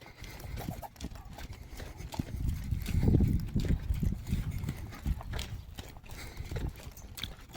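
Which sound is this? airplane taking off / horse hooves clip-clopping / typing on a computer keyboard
horse hooves clip-clopping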